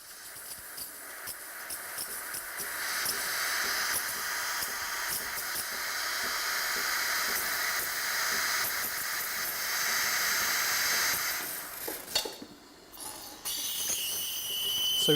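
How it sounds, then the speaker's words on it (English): Steam wand on a Sage Barista Express BES875 espresso machine hisses loudly and steadily for over twelve seconds, briefly sputtering and cutting out before resuming. "As soon as our espresso shot is finished, we engage the steam."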